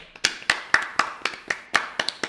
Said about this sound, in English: I will cut the claps out